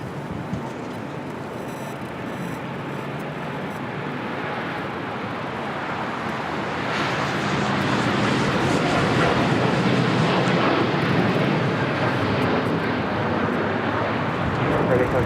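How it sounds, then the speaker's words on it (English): Air Tahiti Nui Boeing 787-9 Dreamliner taking off for Paris, a broad jet roar that swells gradually and peaks loud and sustained, with talk over it. "This is Air Tahiti Nui Flight 8 taking off to Paris on a 787-9 Dreamliner."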